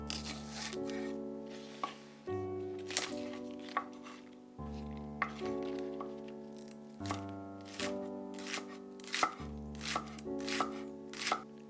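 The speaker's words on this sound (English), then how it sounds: "Mince 1 green onion," Knife mincing green onion on a cutting board for a Vietnamese pork meatball noodle soup, a steady run of quick, close chopping taps in short bursts under background music, with no talking.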